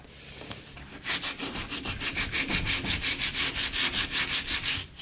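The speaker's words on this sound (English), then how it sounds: "Obviously, I'm not going to hand sand this whole thing, but it is turning to powder" Half-worn 80-grit sandpaper rubbed by hand across a fiberglass rear lift gate of a Dodge Ramcharger, a close, loud run of about twenty fast even back-and-forth strokes after a brief pause, with no talking.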